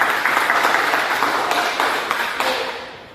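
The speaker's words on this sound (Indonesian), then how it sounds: "Beri aplaus untuk Ever." Classroom applause for a student after a presentation, a dense patter of many hands clapping steadily for about three seconds before tapering off.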